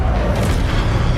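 An Incendio fire spell cast in Hogwarts Legacy, a loud rumbling whoosh of flame that fills the whole moment with dense low roar and no voices.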